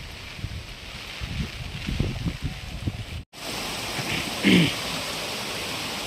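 Rainwater rushes down from village hills past flooded paddy fields, a loud, continuous roar of flowing water that drops out briefly midway and then resumes, with a voice talking faintly at first.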